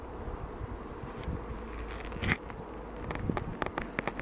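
Bees hum steadily inside an opened beehive, a close, continuous drone with a few louder passes as insects fly near, no talking heard.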